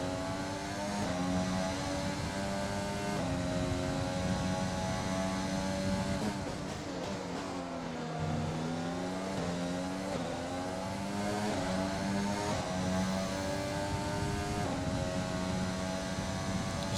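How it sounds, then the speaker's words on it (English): An F1 car engine screams in F1 2020 on the Australia track, a loud continuous whine that climbs through the gears, dips sharply around a slow corner, then rises again, with no talking. "Love the engine tones of the game now. Sounds a lot more mean and angry"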